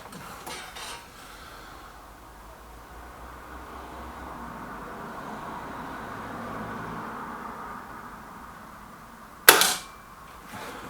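One sharp air rifle shot from a Kral Nish cracks out near the end, loud and close, after several seconds of steady outdoor background hiss.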